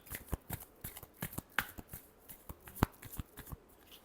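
Tarot cards being shuffled by hand, a quick run of crisp, close riffling flicks and taps, quiet and alone with no talk.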